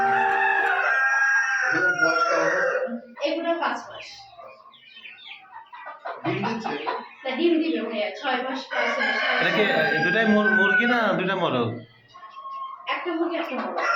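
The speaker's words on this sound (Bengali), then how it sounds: "আজকে আমরা আসছি ব্রাহামা জাতের মুরগির খামারে দেখতে পাচ্ছেন আমরা এখন ফার্মে আছি" Brahma breed chickens on a poultry farm crow and cluck repeatedly, close and fairly loud, with people talking in between and over the birds.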